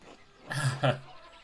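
Sheep bleating in the video game Pentiment, a single short, nasal bleat with two pulses, moderately close and alone over a quiet background.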